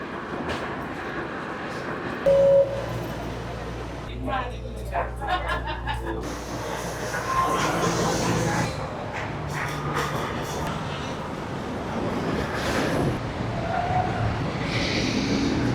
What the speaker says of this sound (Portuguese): entrando aqui no metrô.